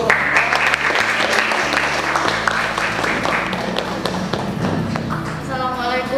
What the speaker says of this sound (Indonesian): silakan berikan aplaus dulu untuk